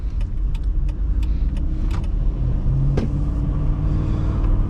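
A 2008 Chrysler Aspen with a 5.7L HEMI V8 cruising on hilly back roads, its steady low engine rumble heard from inside the cabin, with a few light rattles and clicks over the drone.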